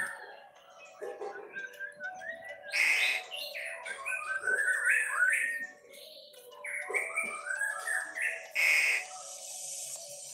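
A small songbird chirps and warbles in quick, varied phrases, fairly close and clear against a quiet background with a faint steady hum.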